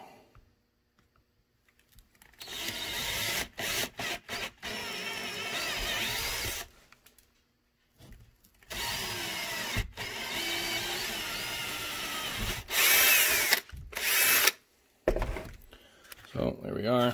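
A power drill drilling a holster, whirring in repeated bursts of a few seconds each, separated by short pauses, close and loud.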